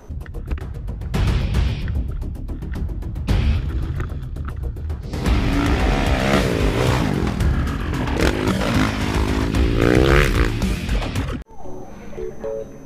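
A motocross bike ridden by a rider with a prosthetic leg revs and roars nearby, its engine rising and falling in pitch through gear changes, loud and continuous before cutting off abruptly near the end.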